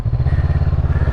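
A Honda CB500X motorcycle on the move, its engine throbbing in a fast, even low pulse that sounds loud and close, with no voices.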